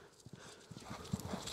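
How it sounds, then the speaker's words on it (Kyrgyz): A horse runs with its hooves clip-clopping in a quick, uneven rhythm, fairly close and moderately loud, with no voices over it. "Аттын жүгүргөнүнү байкап турасыздар"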